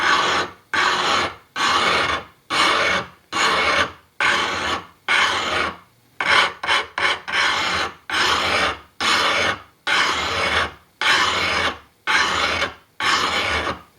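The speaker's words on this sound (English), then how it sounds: "put your stone and take a coarse file" Coarse file rasping along a machete edge in steady back-and-forth strokes, about a dozen long even passes with a quick flurry of short strokes midway, close and loud with no voices.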